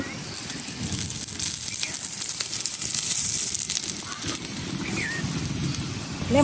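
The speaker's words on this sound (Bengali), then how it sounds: "এই যে অল্প করে তেল দিয়ে দিতে হইব" Aloo paratha frying in a pan with a little oil, a dense continuous crackling sizzle close up, steady and fairly loud throughout with no break.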